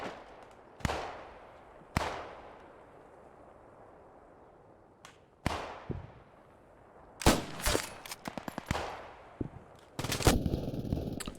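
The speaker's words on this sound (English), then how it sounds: "Ah, it's a bloody machine gunner." Machine gun fire in the WWII shooter Post Scriptum, a few isolated sharp cracks echoing at a distance, then a cluster of rapid bursts toward the end, fairly faint overall.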